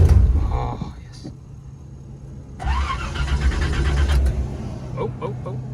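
An old V8 engine in a Chevy S10 pickup cranks, then catches and runs with a rough uneven rumble, heard close with a voice talking over it.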